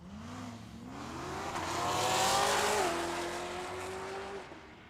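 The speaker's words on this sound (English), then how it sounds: "The Corvette was hustling the early part of the racetrack" Corvette launching down a drag strip at Tucson Dragway, its engine roaring and rising in pitch as it accelerates away, loud and continuous, then tapering off.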